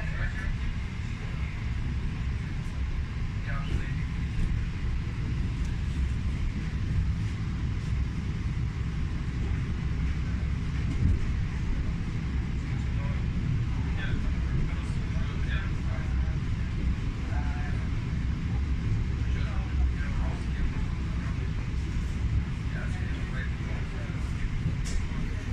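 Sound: Russian Railways electric train running

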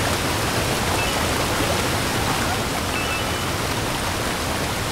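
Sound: waterfall in Super Mario Odyssey video game

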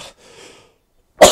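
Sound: cough

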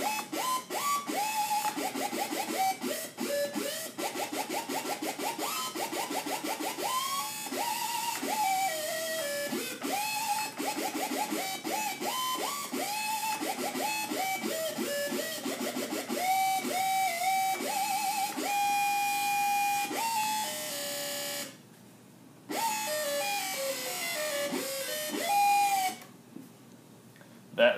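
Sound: Synth, distorted digital waveform layered with square

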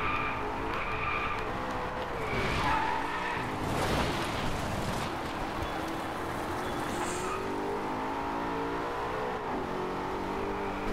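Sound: race car driving and skidding in the video game DriveClub

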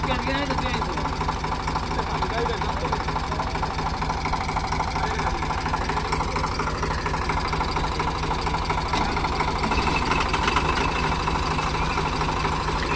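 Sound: faulty tempo truck engine idling

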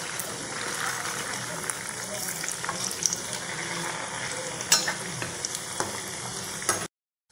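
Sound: dough balls frying in a pan

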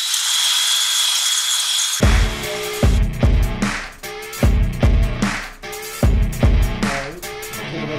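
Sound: cylinder hone honing LT1 engine cylinder bores

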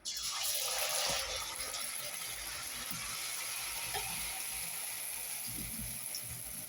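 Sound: oil pitha (Bengali fried cake) batter frying in hot oil

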